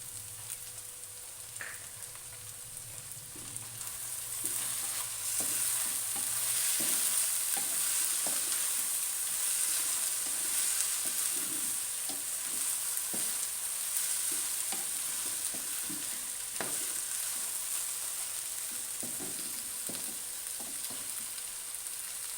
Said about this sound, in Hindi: अब मैं इसमें डालूंगी हरी मिर्चें जो कि मैंने चॉप करके रखी हुई थी